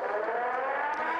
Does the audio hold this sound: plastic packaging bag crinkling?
no